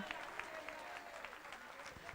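Congregation applauding in a church service, a steady wash of clapping with crisp individual claps standing out, moderately distant and continuous throughout.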